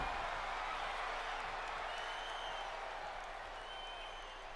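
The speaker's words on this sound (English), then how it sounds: "The crowd is loving it, the stink face." A virtual arena crowd in the WWE 2K24 wrestling game roars steadily through a women's championship submission match, a dense, even wash of cheering and applause that holds at constant loudness throughout.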